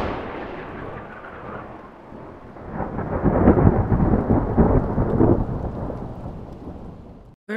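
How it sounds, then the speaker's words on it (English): Thunderstorm passing over a house, rolling thunder swelling into a loud rumble midway over steady rain, then easing off. "Very odd thunderstorm passed over the house."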